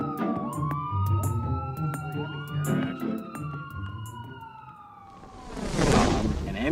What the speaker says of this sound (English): The ambulance sounds